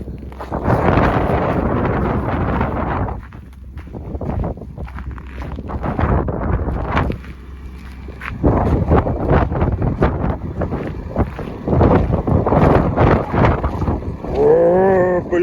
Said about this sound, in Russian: О, блин, какой ледяной ветер.